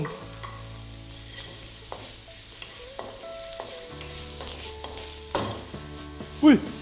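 Bacon sizzles and spatters in a hot pan, with scraping stirs, clinks of a utensil and a sharper pop near the end.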